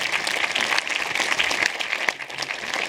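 Audience applause at a festival awards ceremony, a steady, dense clapping from a crowd that keeps up evenly throughout with no talk on top.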